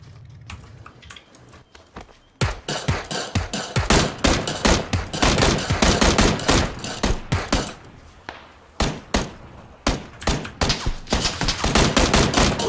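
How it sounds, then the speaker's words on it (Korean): Gunfire in PUBG Battlegrounds, rapid close bursts of automatic shots in dense rattling volleys after a quiet start, briefly pausing then resuming, with no talk over it. "총소리"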